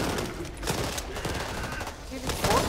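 Rapid automatic gunfire in the co-op zombie shooter Back 4 Blood on Veteran difficulty, with dense overlapping bursts of shots, game effects and voices mixed in throughout.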